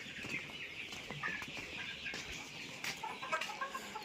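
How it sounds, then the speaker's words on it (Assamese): Egg-laying local hens in a poultry shed cluck steadily and nearby, with overlapping calls throughout, some sharper chirps, and a constant background hiss. "ইয়াত এইখিনি মোৰ ডিম পৰা মুৰ্গীখিনি আছে"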